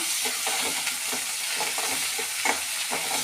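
Curry leaves, coriander, mint and tomato go into onions frying in a pan for a meal maker biryani, with a steady loud sizzle and the soft scrape of stirring throughout.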